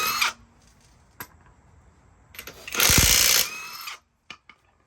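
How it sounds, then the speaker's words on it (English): A Greenworks 24V cordless impact wrench removes lug nuts from a 2023 Honda Ridgeline wheel. It gives one loud, rattling, buzzing burst of about a second, with scattered clanks and handling knocks before and after, and no talk. "we're gonna use the GREENWORKS IMPACT wrench, and it works well"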